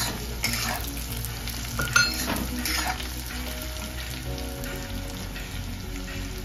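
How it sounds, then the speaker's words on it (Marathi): Sesame, poppy seeds, cardamom, black pepper, caraway and mace are dry-roasted and stirred in a pan, giving a faint continuous crackle and rustle with occasional scrapes, fairly quiet and without any talking. "थोडेसे भाजून घेऊया हे सुके मसाले"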